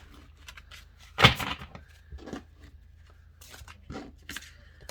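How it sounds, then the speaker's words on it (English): A tarot card deck being shuffled, giving one sharp riffle burst followed by a few softer, scattered card shuffles and rustles close by. "It'd take a long time of shuffling to really kind of mix this deck up"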